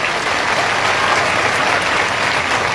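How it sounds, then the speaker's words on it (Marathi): A large crowd at a Maratha community rally applauds continuously, a dense, loud wash of clapping that holds steady from start to end. "टाळ्या वाजवून कौतुक करू."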